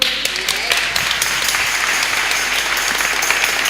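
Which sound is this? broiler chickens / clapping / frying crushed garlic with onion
clapping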